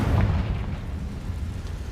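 Confringo explosion spell in Hogwarts Legacy, a deep, muffled boom at the outset that quickly settles into a low, rumbling decay with no talk.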